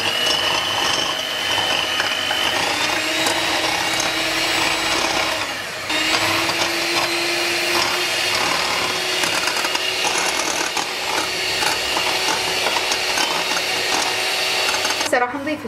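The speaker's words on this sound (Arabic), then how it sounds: "هسه راح نجي نخفق البيض بالبداية" Electric mixer whisking eggs for a rainbow cake, a loud continuous mechanical whir with a rattling, ratchety texture running for the whole stretch, dipping briefly in the middle and stopping with a clatter near the end.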